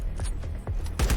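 AK rifle fire in the video game LifeAfter, a short burst of a few muffled shots followed by a louder, sharper pair at the end.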